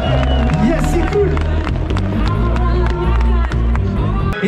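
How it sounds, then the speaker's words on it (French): Outdoor crowd clapping and cheering for volunteers at the start of a snowy night trail race, loud and continuous over amplified music with a steady beat and background babble. "Je veux un maximum d'applaudissements pour nos bénévoles, un maximum de bruit."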